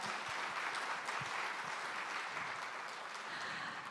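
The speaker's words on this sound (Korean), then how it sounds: "네, 다시 한번 박수 부탁드리겠습니다." Audience at a Korean Information Security Day ceremony applauds, a sustained even wash of clapping from a large hall, fairly faint and with no voices over it.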